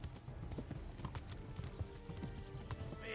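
A horse gallops in Kingdom Come: Deliverance, its rhythmic hoofbeats thudding quickly and evenly at a fairly low level.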